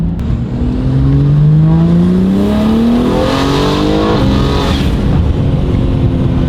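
A loud tuned car engine revs steadily upward on a data-logging pull to about 5,500 RPM, its pitch climbing continuously, close and dominant with no talk.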